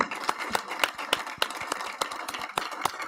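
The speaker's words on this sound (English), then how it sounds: "Here's our applause." One person claps steadily in a fast, even rhythm of about ten sharp claps, close and loud, with no voices.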